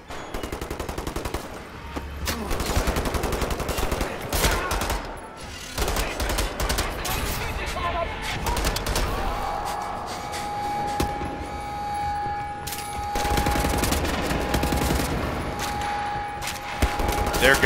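Enemy gunfire in Wolfenstein rattles almost nonstop, loud automatic bursts and heavy shots overlapping in dense volleys with brief gaps, under game music and effects throughout.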